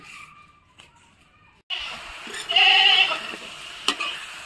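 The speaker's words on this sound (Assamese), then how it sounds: "এয়া মাংস লাৰি আছে, চৌকাত বনাইছো।" Meat being stirred in a pot on a clay stove at home, a quiet start giving way to steady sizzling and scraping from about the middle, with a louder burst of frying near the end.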